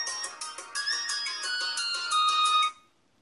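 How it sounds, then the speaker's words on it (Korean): A phone ringtone signals an incoming call, a bright repeating electronic melody playing for a few seconds, close and clear with no talk, then stopping abruptly. "전화 오네요."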